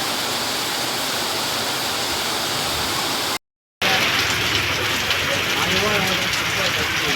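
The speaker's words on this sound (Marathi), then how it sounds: "रात्री आठ वाजण्याच्या सुमारास मुसळधार पावसात सुरुवात झाली आहे" Heavy monsoon rain pours at night in Pandharpur, a loud, dense, unbroken roar of falling water with a brief cut to silence partway through.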